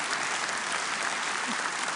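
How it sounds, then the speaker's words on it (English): Steady audience applause fills a conference hall at a European leaders' event in Gdańsk on support for Ukraine, a dense, even wash of clapping that holds at a constant level throughout with no voices above it. "Applause."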